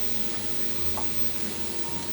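Squid frying in olive oil in a pan, a close, steady crackling sizzle with faint stirring clinks, no voices.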